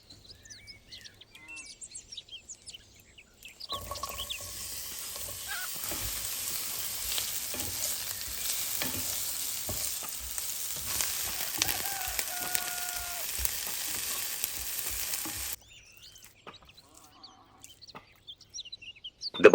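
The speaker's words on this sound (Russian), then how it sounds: "Обжариваем мелко нарезанный лук до состояния прозрачного золота." Chopped onion sizzles and crackles steadily in a hot pan for several seconds, a bright hissing spatter that stops abruptly.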